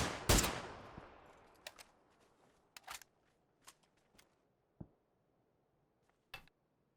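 Gunfire in the PUBG video game: an opening shot that rings out and decays, followed by scattered single distant shots spaced a second or so apart.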